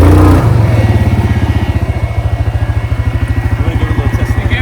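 A motorcycle engine revs hard during a wheelie attempt on dry ground, a close, loud, steady throbbing drone with rapid pulsing that holds throughout, running alone with no talk.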